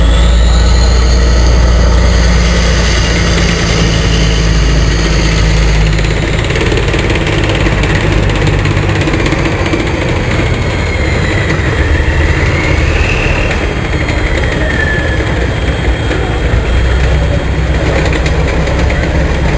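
A self-propelled armoured vehicle built on a T-72B chassis, weighing 41.5 tonnes with a 12-cylinder engine, runs at a steady loud drone throughout, with a deep rumble and a whining mechanical hum at a public dynamic display.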